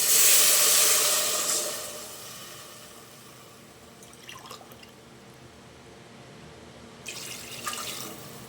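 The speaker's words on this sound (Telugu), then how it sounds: "ఇప్పుడు నేను ఇందులో వాటర్ అనేది యాడ్ చేసేస్తున్నాను" Water poured into a pot of mutton pulao, a loud rushing splash at first that fades to a quiet trickle, followed by a few faint clinks and a second brief pour near the end.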